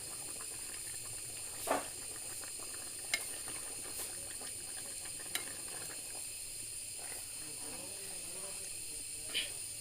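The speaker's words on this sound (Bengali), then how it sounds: "মাছ দিয়া মিশিয়ে রেখে দিছি।" Large fish pieces being mixed into frying spices with potato and tomato in a pan, a faint low sizzle and hiss with a few sharp clicks of a spoon against the pan.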